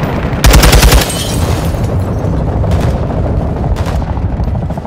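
Gunfire from the Call of Duty Modern Warfare II video game: a loud rapid automatic burst up front, then a few sharper single shots and short bursts against a rumbling battlefield background.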